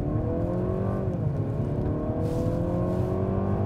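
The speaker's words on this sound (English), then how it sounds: "So we'll hold it down, we'll rev it" A 2022 Mercedes C300 4MATIC engine held at high revs in Sport Plus mode, a loud steady drone whose pitch dips briefly and then climbs again, heard up close and alone.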